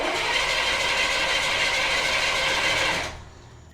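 Engine cranking on a 1978 Jeep Cherokee with no fuel reaching the fuel filter after a fuel pump replacement: a steady, loud mechanical churn for about three seconds that then cuts off abruptly.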